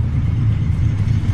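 Airliner thrust reversers roaring on landing in an A32NX flight simulator, a loud, steady low rumble of engine noise with no break.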